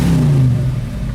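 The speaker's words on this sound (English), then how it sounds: "That exhaust sounds great." A 1967 Ford Mustang, a red classic car, rumbles close by with a loud, deep engine and exhaust note that holds steady with a slight dip in pitch.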